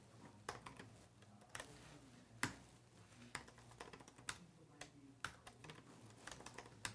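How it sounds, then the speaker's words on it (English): Fingers tap a computer keyboard in quick, uneven bursts of crisp clicks, close and moderately quiet, with short pauses between runs of keystrokes and no voices. "I'll do some typing first"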